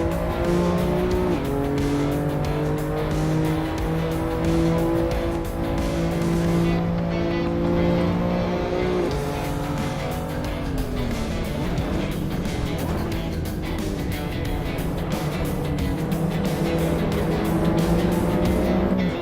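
Race cars in the Assetto Corsa EVO driving game roar around the track, engines rising and falling through gear changes, with other cars close by and brief tire squeal, loud and continuous throughout.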